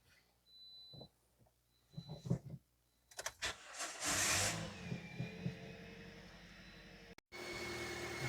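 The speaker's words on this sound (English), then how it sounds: "So we are going to start the engine up." A 2010 Toyota Corolla 1.8 engine cranks with a few short bursts, then catches and settles into a steady mid-pitched idle hum, heard up close and fairly quiet, with a brief dropout near the end.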